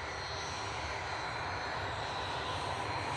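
A steady, loud engine roar from an aircraft during the takeoff run at the RAF Waddington airshow, holding constant throughout with no talk over it.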